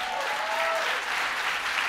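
Brief audience applause during a talk-show style interview, a short, even patter of many hands clapping at moderate level with a voice faintly present.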